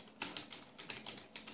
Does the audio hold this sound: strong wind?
no